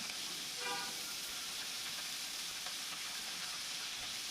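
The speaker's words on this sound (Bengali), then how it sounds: "এবার আমি কড়াইতে তেল দিয়ে দিয়েছি এবার মাছটা আমি ভেজে নেব" Fish frying in oil in a wok during a home lunch cook, giving a steady, even sizzle throughout, moderately quiet and close, with a brief faint tonal blip near the start and no talking.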